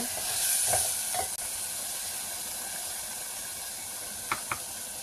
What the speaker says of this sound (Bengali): মাংসগুলো ঢেলে একটু নেড়ে ছেড়ে ভাজা করে নেব